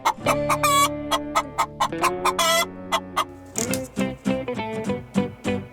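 A chicken clucks in a quick series of sharp, close, fairly loud calls with a few longer drawn-out squawks among them, and no voice joins in.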